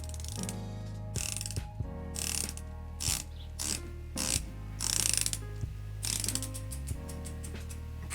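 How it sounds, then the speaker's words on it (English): The bezel of an NTH Amphion dive watch being turned, giving a series of crisp, close ratchet clicks in quick runs separated by short pauses. "So bezel action on the NTH."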